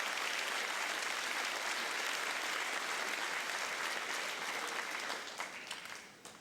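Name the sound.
audience applause for platform guests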